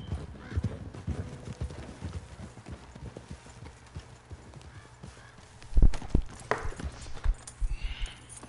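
Horse hooves clop in a video game, close uneven steps from more than one animal, then a sharp heavy thud and a whinny near the end.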